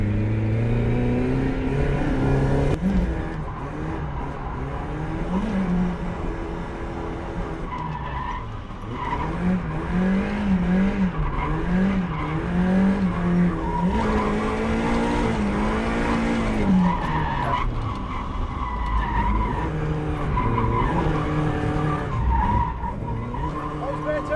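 A Mazda MX-5 Miata drifts on a wet track, its engine revving hard with wavering pitch as tyres skid and squeal through long slides, loud and close throughout, with talking over parts of it.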